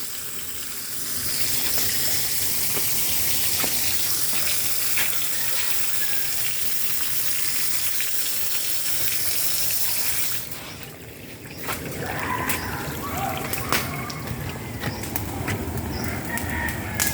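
Water gushes loudly and continuously into a pig pen, then the rush drops away into a thinner splashing flow with scattered clatter and faint farm sounds.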